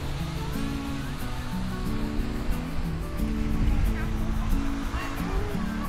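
Sea waves wash and break steadily on the beach at Cần Giờ in a continuous roar, with voices talking over the surf.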